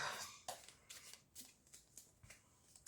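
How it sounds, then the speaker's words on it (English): Tea leaf fortune telling cards are shuffled and handled close up in a quiet room, giving a series of soft, quick riffling and tapping bursts with no voices. "Now we are going to take the tea leaf fortune telling cards."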